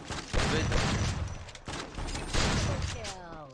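Bursts of rapid gunfire ring out in a shooting video game during a tournament or training match. The loud volleys come in quick clusters and sit under a player's talk.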